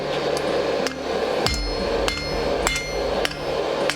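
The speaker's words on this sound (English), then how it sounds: "You want to hammer on both sides." A hammer forging a medieval spike axe on the anvil, landing a series of sharp, ringing metal blows at a fairly even, unhurried pace, loud and close with no talking.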